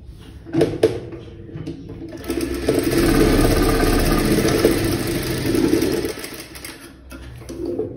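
A sewing machine stitches along a folded blouse strip: brief taps at the start, then a sustained rapid mechanical whir for about four seconds before winding down, close and fairly loud with no talking.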